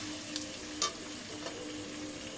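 Meat and potatoes sizzle steadily in a pan as water goes in, a continuous low frying hiss with a few faint clinks and splashes, quiet and without speech.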